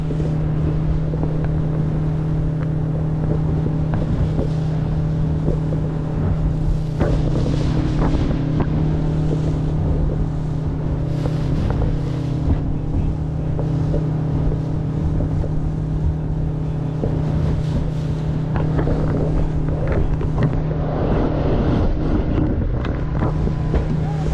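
A speedboat in Munnar races across the water with a loud, continuous motor roar. Heavy wind buffets the microphone throughout, with only occasional brief voices.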